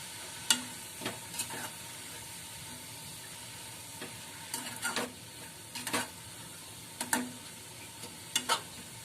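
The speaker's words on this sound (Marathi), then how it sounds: "आता पुन्हा एकदा मी मिक्स करून घेते।" Fenugreek leaf greens, salted and cooked Malvani style, get mixed in a pan: quiet, scattered spatula scrapes and taps over a faint low sizzle, with no speech.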